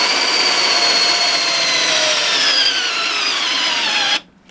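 A power drill bores grommet holes in very hard wood, a loud sustained high whine that gradually drops in pitch as it labors, then cuts off abruptly near the end.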